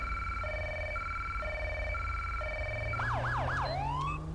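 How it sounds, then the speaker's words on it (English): A highway patrol police car siren in GTA 5 with the LSPDFR mod sounds a steady two-tone hi-lo wail, then switches to a fast rising-and-falling yelp for a few cycles, loud and close under a low engine rumble. "Go ahead and kill the sirens."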